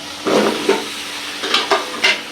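Sweet pumpkin pieces sizzle as they are stir-fried in spiced oil for a prawn and pumpkin curry, with a soft frying hiss broken by several distinct scrapes of stirring at close range.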